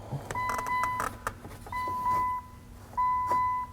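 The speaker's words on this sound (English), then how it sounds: "whenever I touch the harness that I believe goes to the ignition switch is when that chiming starts" A Chrysler/Dodge minivan instrument cluster sounds its warning chime, a series of clear repeated electronic dings in three short bursts, close and fairly loud, apparently triggered by disturbing the ignition switch wiring harness.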